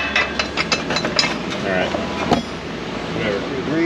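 A ratchet wrench clicks in quick bursts on bracket bolts of an old Ford F-150 truck, close metallic ratcheting with a few clinks and some background noise.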